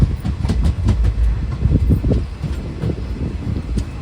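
The Puri Express passenger train runs along the rails at speed, a loud, dense rumble with rapid rhythmic clickety-clack from the wheels and some wind buffeting, heard from inside the carriage with no talking.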